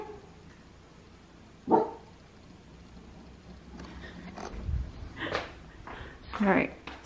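Two dogs bark back and forth at each other, scattered sharp barks and yips at moderate distance, some nearer and louder, spread over several seconds with indoor background noise.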